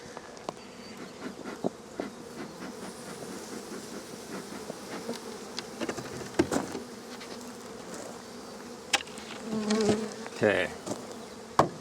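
Honeybees buzz steadily in an open hive split, a continuous close hum with scattered clicks and knocks of handling, and a voice speaks once briefly.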